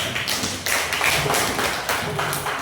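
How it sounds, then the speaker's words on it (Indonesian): A class applauding a student group after its presentation, a dense burst of hand claps with irregular louder swells, fairly close and steady, with no talk over it. "Beri tepuk tangan untuk kelompok 1"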